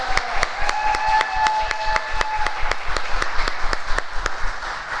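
Sparse audience applause at a National Honor Society induction ceremony: scattered individual claps, fairly close and steady for five seconds, with a faint sustained tone and some background murmur underneath.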